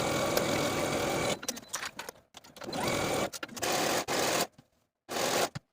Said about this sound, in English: Sew your shoulder seams and your side seams with a 1/4 inch seam allowance